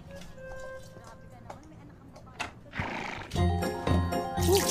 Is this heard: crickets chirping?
no